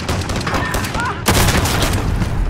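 Rapid bursts of gunfire from an online first-person shooter match, dense and loud throughout, with a sharp louder volley midway and a voice briefly heard underneath.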